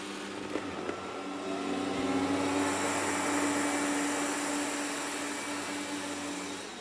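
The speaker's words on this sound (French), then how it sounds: "Lorsqu'il détecte un tapis, il va accroître sa puissance de succion." A Dreame L10s Ultra robot vacuum ramps up its suction on carpet, a steady loud whirring motor drone that swells in strength after the first couple of seconds and then holds, with no talking.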